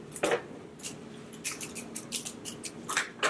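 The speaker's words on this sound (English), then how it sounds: "So I'm going to cut it also, but I'm just going to leave it about the same length." Scissors snipping flower stems during floral arranging, a series of quiet, sharp cuts spaced irregularly, close by and with no talking.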